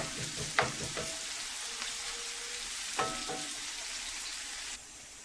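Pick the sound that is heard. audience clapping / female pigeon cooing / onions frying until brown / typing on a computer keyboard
onions frying until brown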